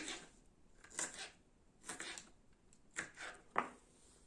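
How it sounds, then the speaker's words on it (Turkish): A knife chops red peppers on a board for pickles in a few quiet, separate bursts of cutting, spaced about a second apart. "Kırmızı biberleri de aynı böyle yemeklik doğrar gibi doğrayacağım."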